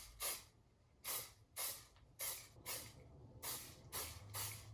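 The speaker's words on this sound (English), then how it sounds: "Now you just want to take some hairspray, any type of holding spray." Eight short bursts of Joico hairspray hiss out one after another at a fairly even pace, each a quick sharp spritz over a quiet background.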